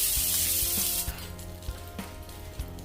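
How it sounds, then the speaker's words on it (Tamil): Pudina or onion chutney mixture is added to hot mustard-seed tempering in a pan, and a loud sizzle fades quickly while scattered soft pops and crackles continue close by, with no talk. "அந்த மிக்ஸினை இதில் போட்டுக்கொள்கிறேன்."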